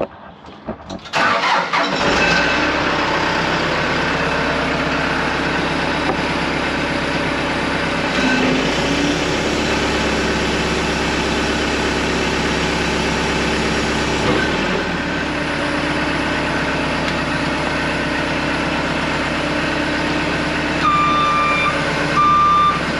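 A Chevrolet Tahoe, an LS swap donor truck, cranks and starts, then idles loudly while a reversing beeper chirps in a regular pattern as it backs out, close by and with no talking.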